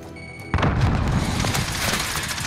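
A heavy airstrike explosion in a military video game erupts suddenly after a quiet moment, a loud booming blast followed by sustained rumbling and debris crackle, with no voices over it.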